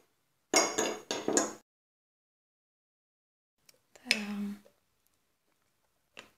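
Small items dropped into an old plastic chicken-seasoning bottle make a quick run of bright clinks and rattles, then after a pause a second short clattering burst with a hollow resonant ring, close and isolated in a quiet room.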